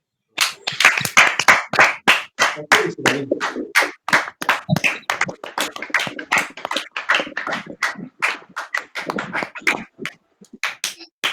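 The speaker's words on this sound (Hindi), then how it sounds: "तो आइए हम जोरदार तालियों के साथ साहिल भैया का स्वागत करते हैं।" Hearty clapping from an audience welcoming a speaker onto an open stage at an evening church gathering, a dense, steady burst of applause lasting throughout.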